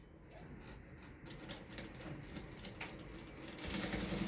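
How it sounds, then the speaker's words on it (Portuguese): A home sewing machine stitches fabric for a beginner's zippered toiletry pouch, a soft, steady mechanical whir close by that grows slightly louder toward the end. "Agora eu vou passar uma costurinha"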